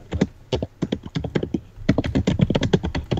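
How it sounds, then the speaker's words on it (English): Rapid typing on a computer keyboard, close and fairly loud, with irregular bursts of key clicks and a brief pause before a denser run of keystrokes. "now we've got typing"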